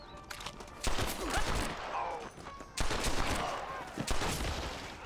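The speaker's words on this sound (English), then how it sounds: "I didn't think you were gonna start shooting me." Gunfire in the Red Dead Redemption video game: several loud, sharp shots in close bursts, with volleys around one and three seconds echoing over a dense, busy background.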